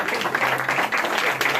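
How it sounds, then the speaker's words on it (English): Audience applause in a living room at a magic show, a dense, steady patter of many hands clapping for about a second and a half, fairly close, with no talking over it. "round of applause for Cindy over here"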